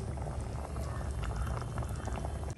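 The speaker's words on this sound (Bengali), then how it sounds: "ফুটতে শুরু করে দিয়েছে, একটু ভালোভাবে সেদ্ধ হোক" A chicken leg-piece curry boils in a covered pot with a continuous, close bubbling rumble that stays steady for a few seconds.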